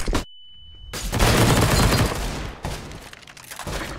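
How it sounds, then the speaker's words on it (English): Flashbang grenade in a video game going off: a loud blast, then a sudden muffled drop with a steady high ringing tone, followed by a burst of loud crackling noise and fading rumble, no talk. "Throwing flashbang."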